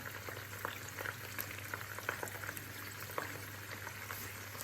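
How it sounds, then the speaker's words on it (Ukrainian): Pasta sauce of tuna, lemon juice and hot pepper frying in a pan, a steady soft sizzle with light crackles and occasional stirring scrapes, fairly quiet and continuous with no talk. "Зараз воно пересмажиться."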